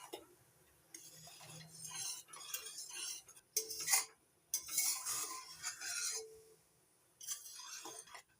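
Jaggery being stirred as it boils in a wok on a gas stove, with intermittent scraping and metallic clinks of a spoon against the pan in bursts separated by quiet pauses.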